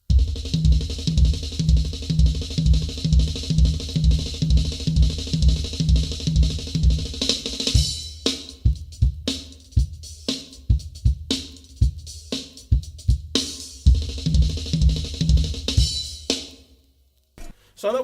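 Six-stroke rolls on a drum kit repeat in a steady accented pattern, then break into a freer run of hits with the right hand's accents moved to the floor tom and the other hand staying on the rack tom, close and loud.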